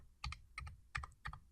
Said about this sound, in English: press down Control, caps lock, and press the arrow keys